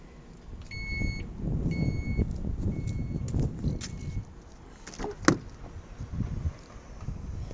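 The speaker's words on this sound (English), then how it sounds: "Power sliding back doors." Power sliding rear doors on a 2020 Chrysler Pacifica Hybrid minivan run with a steady motorized hum, accompanied by repeated warning beeps early on and a distinct latching clunk near the end.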